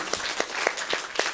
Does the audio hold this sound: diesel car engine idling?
no